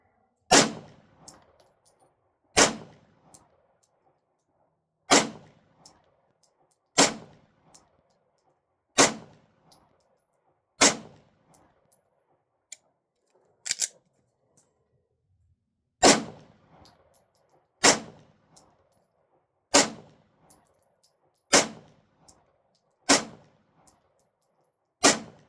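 Gunshots from target shooting at an outdoor range ring out as single sharp reports, about a dozen of them spaced roughly two seconds apart, each loud and close with a short decaying ring, with quiet between shots.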